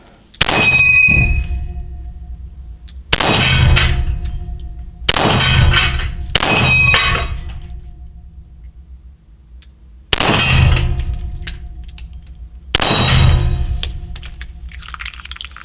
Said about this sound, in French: le Manurin F1, il se défend pas trop mal hein, sur une épreuve de gong en double action